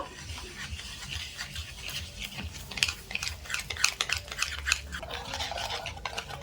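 A spoon stirring and mixing semolina batter in a bowl, producing continuous wet scraping and rubbing strokes with occasional sharper clinks against the bowl, close by and without speech.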